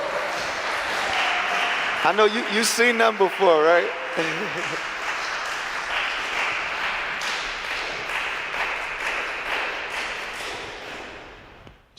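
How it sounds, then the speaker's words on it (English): Concert audience clapping for the performers after a set, a broad wash of applause running under someone talking, with a few sharp louder claps early on before it fades out. "Okay, you can clap for them."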